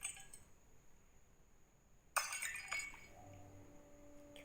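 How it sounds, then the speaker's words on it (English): Glass bottles smashing in a single sudden crash, then a brief scatter of tinkling shards that fades into a quiet ringing tail, heard alone. "And let's hear the sound of smashing bottles."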